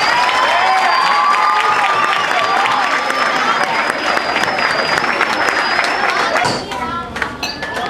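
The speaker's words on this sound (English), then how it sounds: "One more round of applause for the JV boys." A banquet hall crowd at a high school sports award dinner applauds steadily for the JV boys, dense clapping with some cheering that holds for several seconds, then tapers off near the end.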